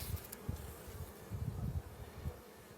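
Honey bees in a small, reduced hive colony being checked for disease give off a steady low buzz that swells and fades, close and fairly faint.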